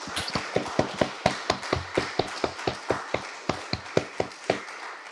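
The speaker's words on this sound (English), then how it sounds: "I would like to ask you to join me in a big round of applause." A scattered round of applause at an award ceremony for a science medal sounds as sharp, separate claps in an irregular rhythm. The claps are fairly close and come from a small audience.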